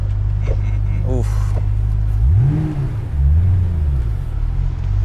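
Supercharged V8 of a 2008 Ford Mustang GT500 revving in second gear, a loud, close low rumble that swells and falls in two strong pulls over the steady idle, with a person talking briefly in the background.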